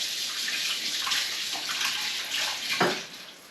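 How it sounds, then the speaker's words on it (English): Hot water runs steadily from a kitchen tap while hands are washed beneath it, a continuous close splashing hiss that swells slightly near the end and then eases off. "I'm going to quickly wash my hands."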